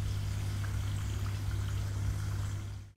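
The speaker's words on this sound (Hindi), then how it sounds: "इसको तेज आंच पे फ्राई नहीं करेंगे, मीडियम आंच पे करेंगे ताकि अच्छी तरीके से ये क्रिस्पी हो जाए।" Keema samosas frying in oil over medium heat in a home kitchen, a continuous close sizzle and bubbling with a low steady hum underneath, no talking.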